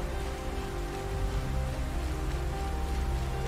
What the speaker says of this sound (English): Look at rain.